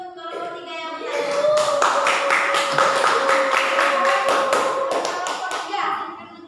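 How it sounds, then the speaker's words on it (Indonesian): Students in a classroom clap for a small group, a few close, sharp hand claps that build into a brisk, rhythmic burst and then fade, with children's voices murmuring underneath. "tepuk tangan untuk kelompok 3 yang bertanya"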